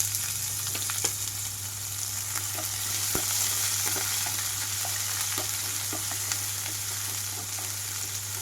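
Chopped onions and green chillies frying in a pan of tempered oil with curry leaves, giving a steady, dense sizzle throughout with occasional soft stirring taps, close and loud, with a constant low hum underneath.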